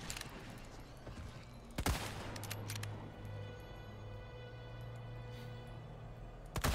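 Gunfire in Resident Evil 4 (2023), a few sharp shots cracking out at irregular intervals over a low humming game background, with no talk.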